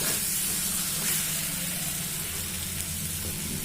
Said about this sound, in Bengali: এবার এই যে ভাজা আলুটা আমি দিয়ে দিলাম। এবার একটু ভালো করে ভাজবো।